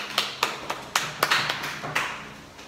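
A small third-grade class in Brazil claps in a sparse, uneven patter of individual hand claps, close and fairly quiet, with no talking.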